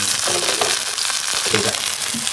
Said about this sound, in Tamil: கத்திரிக்காய் நல்லா வதங்கிட்டுருக்கு.